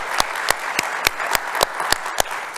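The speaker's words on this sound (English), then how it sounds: "And a big round of applause for our sponsors." Audience members at an application security conference in New Zealand clap for sponsors, with sharp distinct claps standing out at a fairly regular pace over a softer bed of scattered clapping, close and moderately loud.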